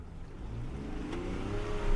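A 4x4 off-road vehicle rolls through mud ruts in drive without full throttle, its engine a steady, close, low drone that swells slightly, with no voices.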